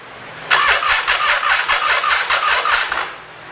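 Triumph Tiger 800XC motorcycle engine cranking over roughly, a loud, close, gnarly rhythmic churning that runs for about two and a half seconds before dying away.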